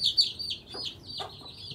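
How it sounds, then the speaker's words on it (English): Silkie hens clucking and squawking nearby, a few short sharp calls and quick clucks in an outdoor setting. "Here comes the hen."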